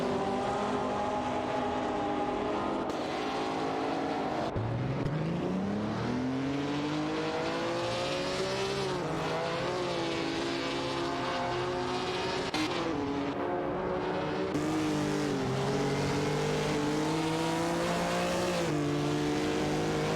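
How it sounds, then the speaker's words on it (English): Race cars in an AI racing video game, engines droning and revving continuously with rising pitch sweeps as they accelerate away and shift gears, a dense loud mechanical whine throughout. "Automobile dashing away."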